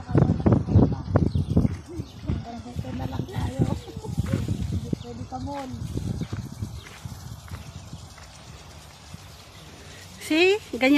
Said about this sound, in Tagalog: may mga ibon, oh.